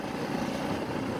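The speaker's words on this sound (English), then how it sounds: "Hear the motor revving up when we kind of run down a wave" A 4hp outboard motor pushes a small sailboat running down a wave, a steady close, loud drone of engine and rushing water that holds an even level throughout, with no voices.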